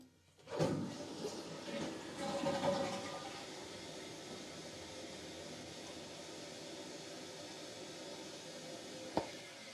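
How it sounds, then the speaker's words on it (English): A toilet flushes in a home bathroom, heard from a nearby bathtub with a snow-blocked vent, as a faint rushing swell that settles into a steady low whoosh and gradually fades. "Flush."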